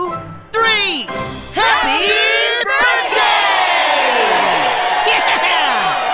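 A Chuck E. Cheese show audience shouts happy birthday loudly together. After a couple of short bursts, the crowd breaks into sustained cheering and whooping that stays loud and close.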